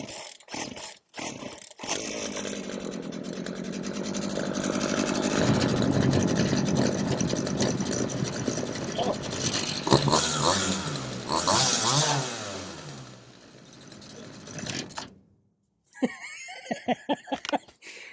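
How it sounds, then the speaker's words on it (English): A used chainsaw being pulled over, firing up and running, with rough engine revving that rises and falls over several seconds, close and loud, then cutting off into brief clattering handling noises. "I'll give it a couple of squeezes, and I'll give it a pull."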